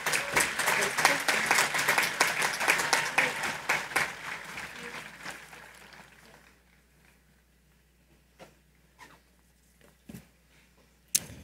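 Commencement audience at a high school graduation applauding loudly for several seconds, then fading out to near silence with a few scattered claps and thumps.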